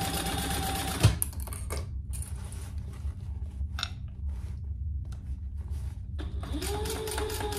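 A sewing machine back stitches on vinyl for a storage caddy, running in a fast steady mechanical whir with brief pauses and a sharp click near the start, loud and close with no talking.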